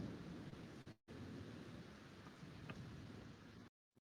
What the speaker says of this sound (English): This thunderstorm sound way up here though that I've been using.